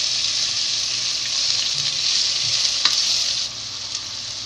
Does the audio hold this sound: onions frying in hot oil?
yes